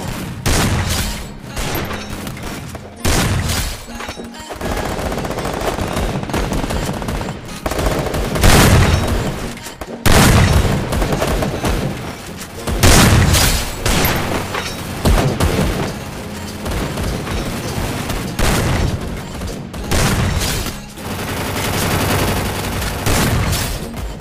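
Rapid gunfire and headshot kills in a mobile shooter game, a loud, nearly continuous stream of shots and bursts with short gaps, dense and close throughout.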